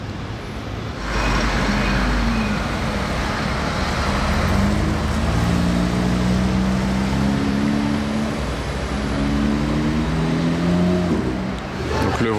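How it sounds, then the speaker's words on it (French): A Mercedes G-Class with a V8 engine rumbles steadily close by, its low drone rising and falling in pitch as it moves along a street in Monaco amid general traffic noise. "il fait un bruit de V8"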